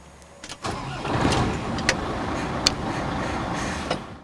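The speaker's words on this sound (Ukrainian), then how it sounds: "Чоловік вперше сідає за кермо німецького сміттєвоза" The engine of a German garbage truck starts and settles into a loud, steady diesel rumble close by, with a few sharp clicks and clanks over it.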